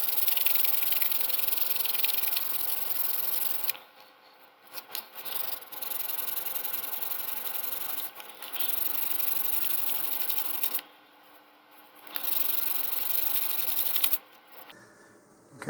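Steady, hissy scraping of sandpaper over filler on a Rocketarium Roland SAM model rocket body tube, close and continuous with a few short pauses between strokes.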